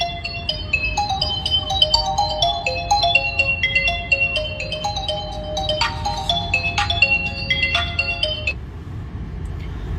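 A mobile phone left inside a Tata Safari rings with a bright, repeating electronic melody, loud and steady for the whole stretch with no talk over it.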